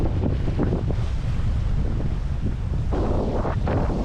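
A sailboat is pushed through gusty, choppy water off the north tip of Canouan, with heavy wind buffeting the microphone and waves sloshing and splashing against the hull in a loud, continuous roar.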